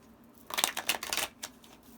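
Tarot cards are shuffled in a quick riffle of papery flicks lasting about a second, close and fairly soft.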